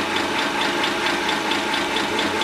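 Swardman Electra battery-powered reel mower with its cutting cylinder spinning freely, giving a steady, loud mechanical whir with a fast rhythmic ticking pulse of the blades and no talk over it.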